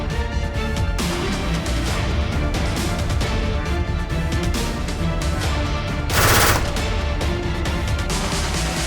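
Machine gun fire roars in sustained rapid bursts, loud and continuous with sharp repeated cracks and a brief louder blast near the end.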